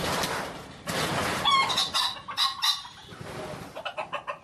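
Hens and ornamental birds in a small backyard coop give close, rhythmic clucks and short chirps, with a rooster's call mixed in and faint background noise.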